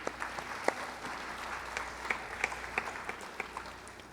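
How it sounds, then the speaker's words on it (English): Audience applause at a Bharatanatyam dance and Carnatic flute arangetram, a steady, moderately distant patter of many hands clapping with a few sharper individual claps standing out, no voices over it. "Let's give them a round of applause."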